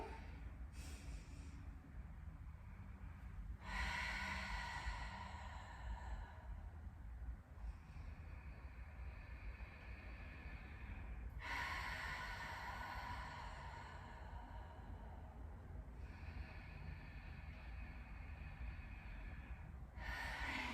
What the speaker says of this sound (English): Lifting yourself up into extension, breathing deeply here.